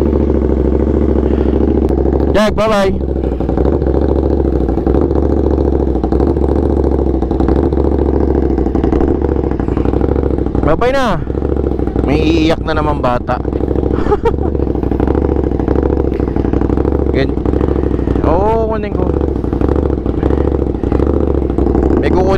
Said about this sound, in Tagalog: Painit muna tayo na matindi-tindi kasi matagal hindi na naman umistart tong motor.